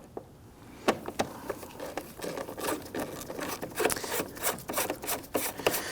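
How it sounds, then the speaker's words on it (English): A T25 Torx bit loosens the four screws on the air filter lid of a 2009-2017 Volvo XC60, giving close, scattered clicks and short scraping rubs that grow busier toward the end, with no talking. "We're going to use a number T25 Torx bit to remove the 4 screws holding the air filter lid in place."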